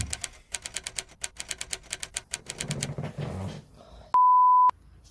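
Document printer running off paperwork: a quick rapid series of sharp, evenly spaced mechanical clicks like typing, a short rumbling feed, then a single loud electronic beep held for about half a second.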